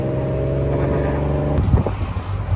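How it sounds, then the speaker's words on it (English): A tuk-tuk rattles through Bangkok traffic, its small engine buzzing and putting steadily up close, then changing pitch as it revs and jostles amid the surrounding street noise. "In a tuk-tuk."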